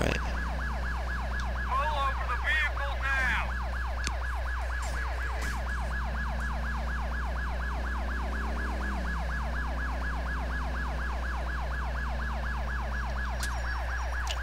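A wailing police siren in GTA IV cycles rapidly and steadily throughout, over a constant low engine drone, with brief faint voice-like chirps early on.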